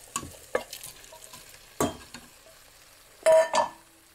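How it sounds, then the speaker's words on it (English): Leftover khichdi, grated cheese and onion being mixed in a pan, with scattered scrapes and soft clinks of a spoon against metal, a few sharper knocks near the end, no talking. "Now mix this very well."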